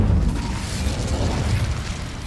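A fiery Incendio spell cast in Hogwarts Legacy bursts out with a heavy low rumble at the start and keeps roaring loudly and steadily, with no talk over it.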